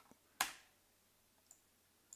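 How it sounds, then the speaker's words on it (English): A single sharp keystroke on a computer keyboard clicks close by, followed by two faint ticks in an otherwise quiet room. "I was typing my time frame."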